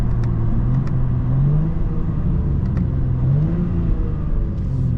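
BMW M2 G87 tuned to about 780 wheel horsepower, its engine droning loudly and steadily up close with a rising, swelling pitch and a few faint ticks, with no voices.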